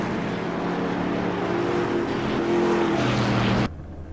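A CRA modified race car engine roars steadily at Five Flags Speedway, a loud continuous drone that shifts pitch slightly before cutting off abruptly near the end.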